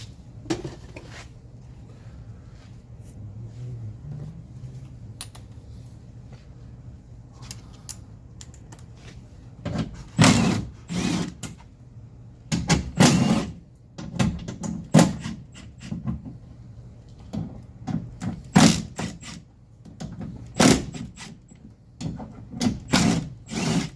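Nissan Titan rear passenger door window regulator mechanism being worked out of the door panel, with sharp metallic clanks, rattles and scrapes in irregular bursts, close and fairly loud over a quiet background.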